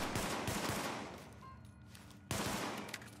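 Shots from a pistol in the video game The Division, several quick cracks over busy game noise that fades and then returns abruptly, fairly quiet overall with no voices.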